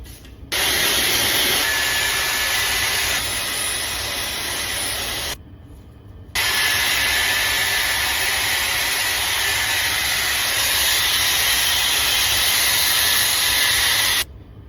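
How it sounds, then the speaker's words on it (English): Stephen Knoll Style Memory Lotion is sprayed onto hair in two long, steady hissing bursts, close and loud, with a short pause between them. "we are going to be using more sprays of this Style Memory"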